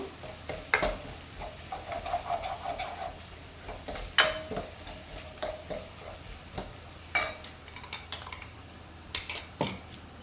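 Prawns frying in a pan for a chilli prawn dish, a soft continuous sizzle punctuated by sharp metallic scrapes and clinks of a spoon stirring against the pan.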